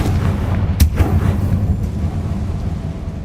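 A Confringo fire spell blast in the video game Hogwarts Legacy: one sharp explosive crack near the start, then a heavy low rumbling boom that rolls on and slowly fades, with no talk.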